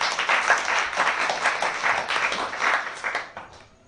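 A church congregation breaks into applause, a dense burst of many hands clapping together that fades out toward the end.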